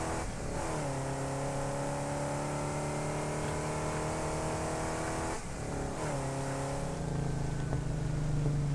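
A tractor engine drones steadily in the game Satisfactory, a loud continuous motor hum with a couple of brief pitch dips as it shifts, holding near and constant throughout.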